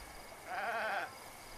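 A single drawn-out bleat from a goat in The Legend of Zelda: Breath of the Wild, nasal and wavering, heard clearly for about half a second against a quiet background.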